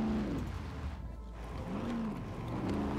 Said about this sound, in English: Turn the engine on. And off we go.